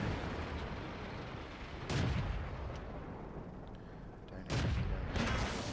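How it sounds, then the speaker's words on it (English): Tank cannon shots in the World of Tanks game, two heavy booming blasts a few seconds apart over a constant rumbling background of engine noise. "Bang! There you go, nice solid hit."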